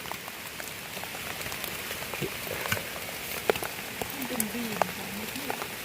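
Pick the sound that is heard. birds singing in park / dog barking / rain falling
rain falling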